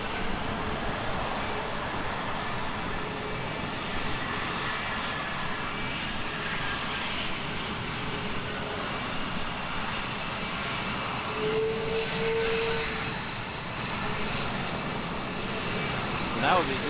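F-22 fighter jets at Honolulu airport produce a steady, loud engine roar that holds throughout, mixed with wind and background voices.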